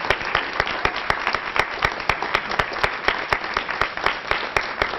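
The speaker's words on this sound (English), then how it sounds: "let's have a big round of applause for all of these incredible students" An audience at a high school artists and scholars recognition ceremony claps steadily, a sustained even round of applause from many hands with no talk over it.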